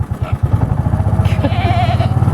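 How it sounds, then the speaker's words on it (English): Goats bleating outdoors by a barn, a run of short, pulsing bleats close by and fairly loud, with a strong buzzing quality throughout. "Yeah, outside goats."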